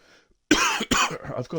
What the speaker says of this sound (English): So excuse me for coughing.